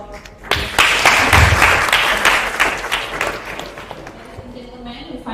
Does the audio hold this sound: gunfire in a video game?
no